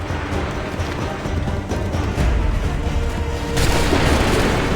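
Musket volley firing in the video game Assassin's Creed III, heavy rumbling booms layered into a continuous loud battle din with crackling shots throughout.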